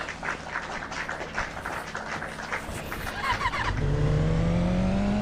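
Game engine audio from a bike ridden along a road in a Roblox-style driving game, a steady synthetic drone that rises in pitch and grows louder toward the end, with squeaky quack-like effects mixed in.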